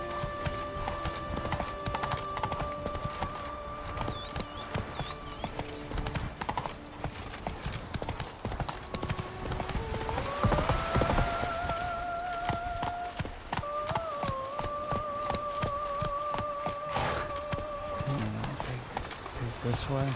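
In the video game Witcher 3, the horse Roach's hooves clip-clop in a quick steady rhythm throughout, with musical tones and someone talking over the hoofbeats.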